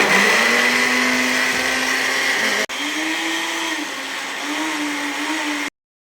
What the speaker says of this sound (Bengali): এবার সব এক এক করে ব্লেন্ড করে দেবে